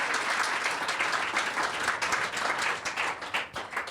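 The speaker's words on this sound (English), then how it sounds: "that deserves a round of applause." An audience claps during an interview with a Michelin-starred chef, with steady, fairly soft applause that holds throughout, individual claps audible in the mix.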